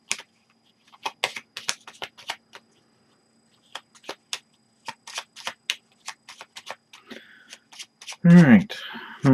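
Cards from a Kingdom Death: Monster board game showdown are shuffled back into a deck, heard as a series of quick riffling, slapping clicks in bursts, close and moderately loud, with a short spoken voice near the end.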